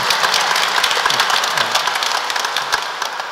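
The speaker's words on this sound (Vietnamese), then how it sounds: "chả lẽ không cho chúng con bằng tràng pháo tay" Church congregation applauding at a parish feast-day Mass, dense clapping from many hands filling the space, loud and continuous, fading slightly toward the end.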